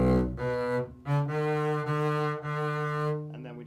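A double bass plays a short passage from a grade 9-12 regional audition piece: four or five sustained, resonant low notes in sequence, close and clear, with no talking.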